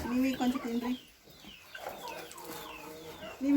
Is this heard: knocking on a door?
no